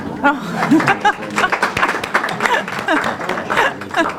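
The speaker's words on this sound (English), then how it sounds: "that's applause for you and Homer" Applause from a class after a reading from Homer: a brief spell of clapping by a small group of people in a room, mixed with chatter and a little laughter.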